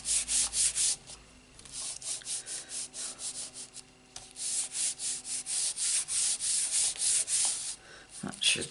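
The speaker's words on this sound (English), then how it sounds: "Then cover it with a piece of scrap paper and just rub it all over, making sure your card doesn't move." Scrap paper rubbed firmly back and forth over a stamped paper card, a rhythmic series of loud, close scratchy strokes with a brief pause partway through.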